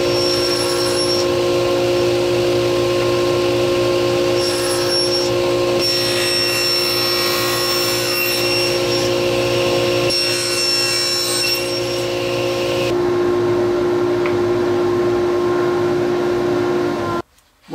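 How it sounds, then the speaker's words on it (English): A table saw cuts notches in wood for a toy catapult, giving a loud, continuous motor whine that shifts in tone as the blade passes through the piece, then stops abruptly at the end. "take that over to the table saw and I'll cut those two notches out"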